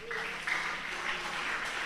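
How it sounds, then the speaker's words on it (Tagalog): Applause from a church congregation during a Filipino sermon, a soft steady patter of clapping heard from a distance, fairly quiet and continuous, with no voices over it. "Palakpak."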